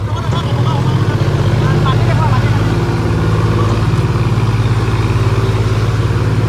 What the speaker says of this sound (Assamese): পূৰা জোৰত যাব লাগিব, নহ'লে ট্ৰেক্টৰ ফচি যাব কেনেবাকৈ